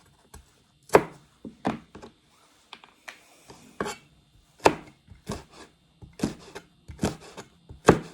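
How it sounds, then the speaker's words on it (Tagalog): Freshly harvested runner beans being sliced with a knife on a board, giving a series of sharp, close chopping taps in an irregular rhythm with short pauses, no talking. "Hinihiwa ko tong aking hinarvest na runner beans."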